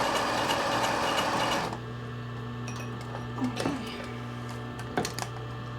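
A sewing machine stitches a stretchy boyshort waistband in a fast, dense run, then stops. A low hum and a few faint clicks and handling sounds follow, with no talking.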